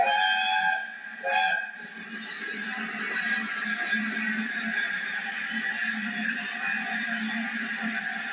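The LNER Mallard steam locomotive departs York, with a sharp whistle blast near the start followed by a sustained rumble and hiss of the moving train at moderate distance.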